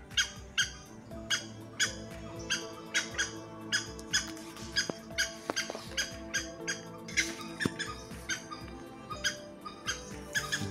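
A green junglefowl mother hen calls beside her newly hatched chicks in the nest, sending out a long series of short, sharp, fairly quiet calls in a steady, repeating rhythm.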